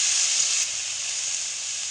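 Chopped tomato dropping into a hot frying pan sets off a loud, steady hiss of sizzling that eases slightly after the first half second and then carries on evenly.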